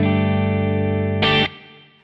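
An electric guitar with a reverb effect of about two seconds plays a sustained chord, a brief brighter strummed burst, then a smooth reverb tail fading away.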